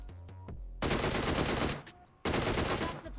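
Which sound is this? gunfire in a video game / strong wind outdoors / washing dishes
gunfire in a video game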